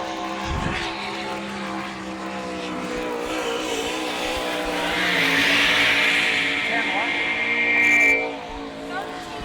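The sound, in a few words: sprint car racing engine on speedway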